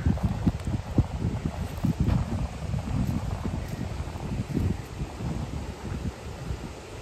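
Steady, blustery wind buffets the microphone beside a mountain lake, a continuous low roar with rustling gusts and no voices.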